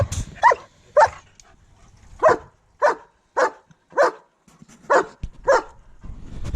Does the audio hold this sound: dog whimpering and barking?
yes